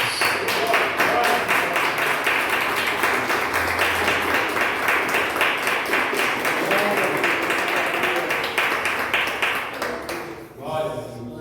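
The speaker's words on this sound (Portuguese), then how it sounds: "Aplauda o Senhor Jesus." A church congregation claps loudly and steadily for about ten seconds, with a rhythmic beat in the clapping, then it dies away abruptly.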